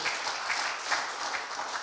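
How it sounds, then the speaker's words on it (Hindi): A congregation at a Sunday Hindi church service applauds a newlywed couple with brisk, continuous clapping, steady and fairly close. "क्यों ना जोरदार तालियों के द्वारा उनको बधाई दें।"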